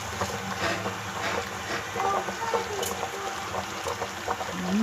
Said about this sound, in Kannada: ಮತ್ತು ಸ್ವಲ್ಪ ಚೆನ್ನಾಗಿ ಕುದಿಸ್ಕೊಳ್ಳಿ.